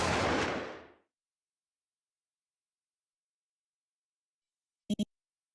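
Gunfire in the video game malViolence: a loud, close blast that fades over about a second, then a long silence and two quick sharp shots near the end.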